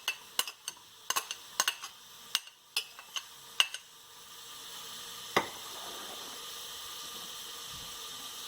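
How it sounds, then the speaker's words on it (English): Onions and ginger garlic paste sizzle in a pan for a pulav, opening with a run of sharp clatters and stirring knocks, then settling into a steady, moderate frying hiss with one more knock midway. "And we can put the ginger garlic paste. And we'll be putting in our onions."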